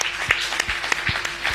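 A church congregation applauding during a sermon, a brief burst of dense clapping from many hands in a room.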